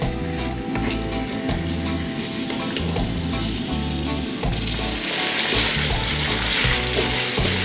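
Jamaican curry beef frying in a pan over raised heat, a continuous loud sizzle with repeated scraping and clattering of the stirring utensil against the pan throughout.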